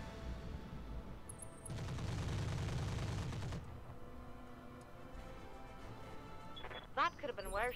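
Sustained burst of machine gun fire in the video game Roguepoint, a dense rapid rattle lasting about two seconds, loud and close, followed by quieter game ambience and a few brief sharp sounds.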